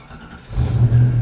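A Ford Mustang V8 with an exhaust leak revs up close, rising from a low idle into a loud, rough, throaty drone over about a second.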